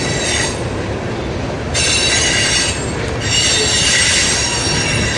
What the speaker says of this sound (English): Another Burlington Northern.